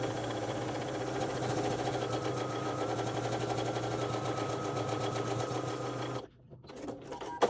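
A sewing machine fitted with a stitch-in-the-ditch foot runs at a long stitch length, giving a close, steady mechanical whir and hum for about six seconds before stopping. A few faint handling clicks follow.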